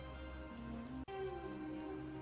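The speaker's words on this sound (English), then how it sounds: "hearing the sound of rain slowly coming back into your ears" Steady rain falls in an even, soft wash of patter, faint and continuous, with a brief dip partway through and no voices.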